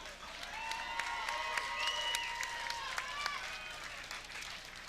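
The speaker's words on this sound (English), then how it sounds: "And now, ladies and gentlemen, a round of applause for one hell of a fight." Crowd applause and cheering fill a kickboxing cage arena after a three-round fight, a steady dense wash of clapping with sharper individual claps and whistle-like cheers, while an announcer's voice carries over it.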